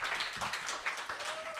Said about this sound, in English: please, we need to give Mitchell a round of applause